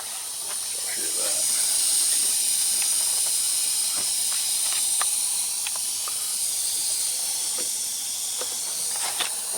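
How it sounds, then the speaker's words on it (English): Steady compressed-air hiss from a small leak on a Volvo truck, a continuous high airy rush lasting throughout with faint scattered clicks and knocks beneath it, moderately quiet, with no one speaking. "Sounds like we got a little bit of an air leak up here."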